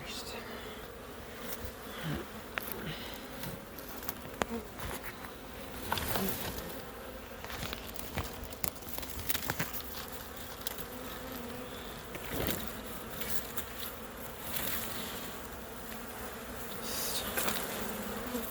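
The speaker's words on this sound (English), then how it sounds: "Yeah, just bees." A steady, close buzzing of many bees at an open hive during feeding and treatment continues throughout, with occasional clicks and handling noises mixed in.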